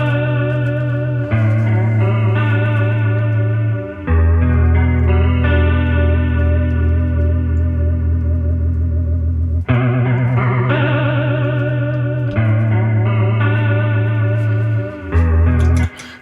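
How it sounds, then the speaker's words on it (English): Electric guitar through a TC Electronic Corona Chorus pedal set to a TRI-Vibe vibrato toneprint, sustained chords with a pronounced wavering pitch modulation, loud and close with no talking. "give that speed knob a little bit of a tweak so that it resets the value, and we should get a much more vibrato sound"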